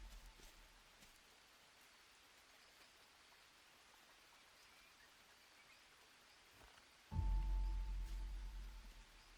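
Steady soft rain hiss from the survival video game Green Hell, an even, quiet wash of falling rain that runs unbroken until a sudden loud low thump near the end.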